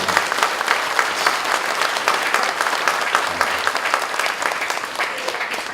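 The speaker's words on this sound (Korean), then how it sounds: "우리 저 황영숙 원장님께 감사와 또 고맙다는 박수 한번 부탁드립니다." Loud, sustained audience applause at a Korean orphanage director's inauguration thanksgiving service, many hands clapping steadily from start to finish with no talking.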